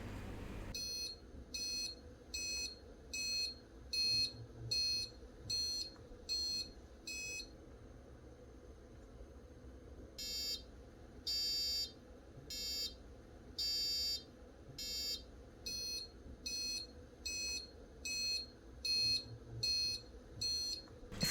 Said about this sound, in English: Notice the various modes of alarm levels.